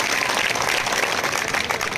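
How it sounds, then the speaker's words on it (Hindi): Crowd applause at an outdoor AIMIM political rally in Gangapur City, India, a loud, dense and continuous roar of many hands clapping with no pauses, filling the whole stretch. "एक बार जोरदार तालियों से पंखीलाल जी के लिए अपना समर्थन दिखाएं"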